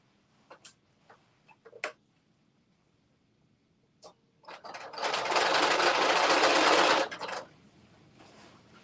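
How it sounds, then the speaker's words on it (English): A sewing machine stitches a garment seam for a Butterick 6989 pattern in one steady two-second run, preceded by scattered light clicks and taps of handling the fabric. "So I'm sewing up the other side now."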